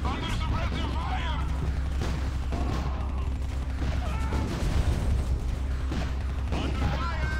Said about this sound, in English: Our unit is under attack. Under suppressive fire!